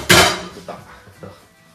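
Heavy metal kitchen pots clank sharply once, then two softer knocks follow as they are set down close by.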